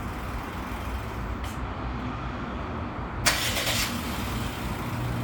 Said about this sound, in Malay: sekarang kita dah pasang, kita akan tengok dia punya start